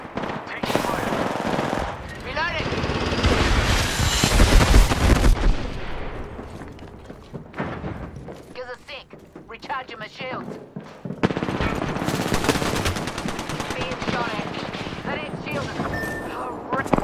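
Rapid bursts of automatic gunfire in the Apex Legends battle royale game, loud and sustained with brief lulls, while a voice talks over the fighting.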